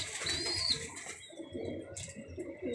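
A white pigeon with a ring on its leg coos in soft, low, throaty bursts, joined by a thin high whistle-like call near the start and light rustling throughout.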